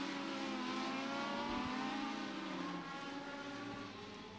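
Legend race cars passing on an oval at Beckley Motor Speedway, a loud sustained engine roar with a shifting pitch as a car goes by, fading slightly at the end.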